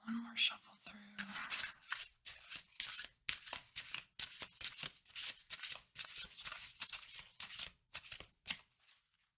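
Oracle cards are shuffled in repeated quick riffling bursts, close and crisp, with a brief soft voice near the start.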